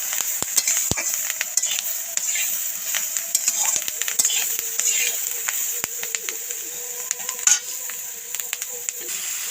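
Onions frying in a pan while being stirred, a soft background sizzle broken by frequent sharp scrapes and clicks of a utensil against the pan, with a voice talking.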